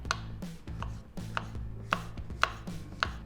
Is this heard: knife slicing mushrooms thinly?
yes